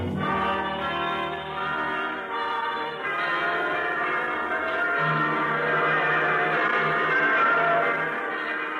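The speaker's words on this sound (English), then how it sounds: "The bells are ringing throughout the land this week." Many bells ring together in a dense, continuous peal, resonant and full, with no voices over them.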